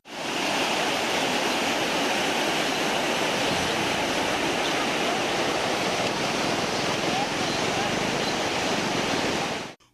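A flash flood pours over the Panchalingam waterfall on Thirumoorthy hill near Udumalaipettai after heavy rain, a loud, steady, roaring rush of water filling the whole clip without pause.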